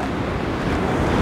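Rough, high sea waves surge at Guarujá in cold wind, a steady broadband roar of surf mixed with wind buffeting on the microphone, continuous and fairly loud with no talking.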